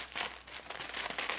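Thin tissue paper crinkles and rustles softly and continuously as it is unwrapped up close.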